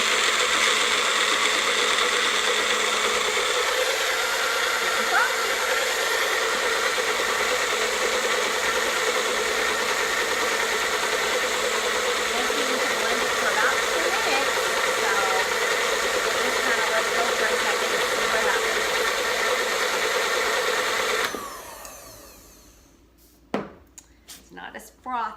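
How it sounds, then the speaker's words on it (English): A small blender attachment whirs as it froths Bulletproof coffee, giving a loud, steady motor drone for about 21 seconds before it cuts off, followed by a few clicks and knocks. "now we're just going to put on my little blender attachment, and I'm going to run it in my Bulletproof"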